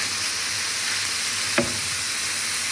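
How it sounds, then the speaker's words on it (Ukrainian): Vegetables for cabbage soup sizzle steadily in a hot pan, a constant bright crackle, with a single brief clink partway through. "обжарюватиму зажарочку. Дивимося, щоб вже ж вона не підгорала, а так протушувалася."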